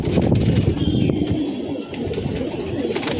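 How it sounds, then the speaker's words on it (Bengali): Pigeons coo on a rooftop as they drink medicated water, a steady soft cooing chorus close by with continuous background noise and a faint voice. "এই কবুতরগুলো দেখেন সব সুন্দর সুস্থভাবে সময় নিয়ে পানি খাচ্ছে"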